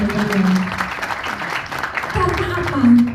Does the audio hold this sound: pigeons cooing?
no